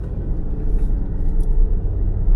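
A Land Rover Discovery SDV6 with an 8HP automatic gearbox drives along, giving a loud, low, continuous rumble of engine and road noise with slight fluctuations in level.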